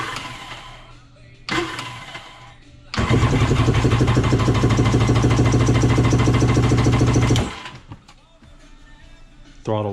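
A Kawasaki 750SS motorcycle engine is cranked with the throttle open, a loud, steady mechanical churning lasting about five seconds, framed by quieter clicks and shuffling before and after.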